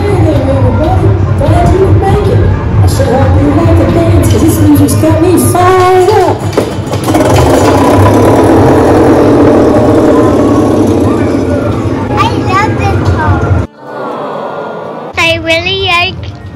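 A tractor engine runs steadily through a farm ride at a pumpkin farm's fall fest, a loud continuous rumble under crowd chatter and children's voices, cutting off near the end to quieter talk.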